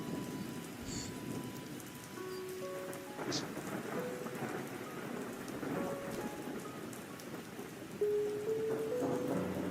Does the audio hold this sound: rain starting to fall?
yes